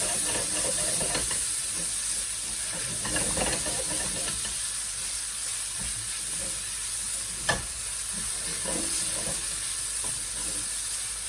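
Noodles stir-fry in a hot pan for fried chicken noodles, a steady loud sizzle and hiss running throughout with soft stirring scrapes and one sharp clack, with no voices.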